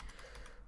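Keys click softly on a computer keyboard while a console command is typed into the 7 Days to Die game, a quick burst of several close, quiet taps lasting under a second.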